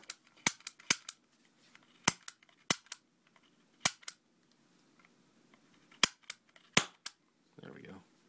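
A Hubley Atomic Disintegrator toy cap gun fires a series of sharp, close cracks, single and in quick pairs, spaced irregularly with quiet gaps between them.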